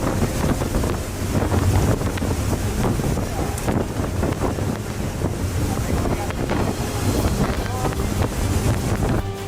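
Category 5 hurricane wind with gusts above 250 km/h roars across a coast in a loud, steady rush of buffeting air that hits the microphone hard, with a constant churning wash underneath.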